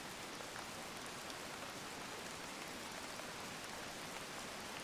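Steady, even video game rain hisses continuously, a soft wash of falling drops with no voices or other sounds.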